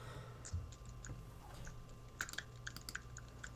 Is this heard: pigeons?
no